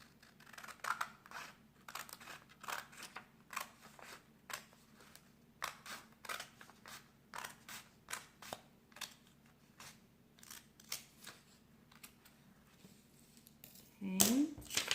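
Scissors cut origami paper in a steady series of crisp snips, close and fairly quiet, with a brief paper rustle at the end.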